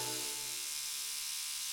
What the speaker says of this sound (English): That's your father's toothbrush.